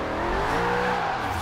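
A Ferrari fitted with a swapped 4.5-liter V8 in Forza Horizon 3 roars steadily and loudly throughout, engine droning at sustained revs with faint tire noise, no talk over it.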